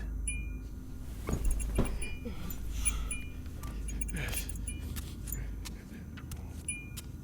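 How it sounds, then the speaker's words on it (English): Two keys clink and jangle as they are lifted off a table, with a few metallic chinks over a low steady background hum and no voices. "I walked over to the table and grabbed the 2 keys."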